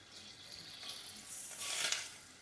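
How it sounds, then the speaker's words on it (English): Carnaroli rice toasting in a hot pan for prawn risotto, a soft, fairly faint crackling hiss that swells briefly toward the end, no voices. "I cook my rice first because I want to lightly toast it"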